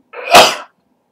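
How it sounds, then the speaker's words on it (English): A single sharp human sneeze bursts out close and loud, short and explosive, followed by silence. "I'm gonna sneeze, excuse me."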